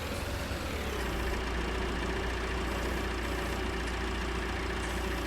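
A New Holland T8 tractor with a 340 horsepower engine idles in Farming Simulator 19, a steady, continuous low rumble held close and unchanging throughout, with no talk over it.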